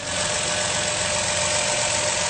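A 2010 Chrysler Town & Country engine idles steadily and evenly, a continuous close mechanical hum with no voices.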